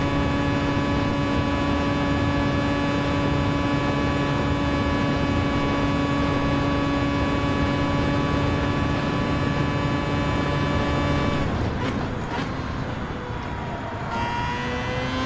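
Mazda LM55 Vision Gran Turismo race car engine in Gran Turismo 7, a steady, high-pitched tonal whine held at constant revs, then shifting and dipping briefly near the end.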